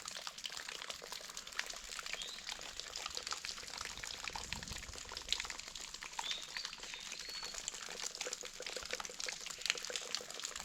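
Water leaks from an old water tower near a pond, a faint, steady trickle and patter heard from a distance outdoors with birds calling around it.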